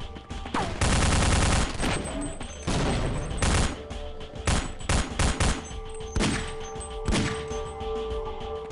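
Rifle gunfire from the video game Half-Life, an M16-style rifle, with a long sustained burst followed by a string of sharp single shots and short volleys, loud and close.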